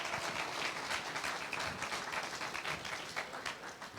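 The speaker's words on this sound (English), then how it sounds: "Let's give another round of applause for the Bluejay Singers." Audience applause for the Bluejay Singers at the MOCBF Ella Dickey Literacy Awards, a dense, steady wash of many hands clapping that holds evenly for the whole stretch before easing slightly.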